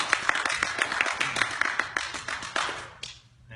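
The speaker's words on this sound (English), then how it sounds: "A round of applause for Fred." A small audience applauds with close, distinct claps in an uneven rhythm that taper off and stop near the end.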